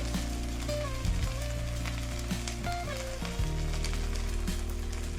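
Gongura leaves simmering in a pan as their water cooks off, a steady close sizzle and bubbling hiss with a few soft clinks and stirring scrapes.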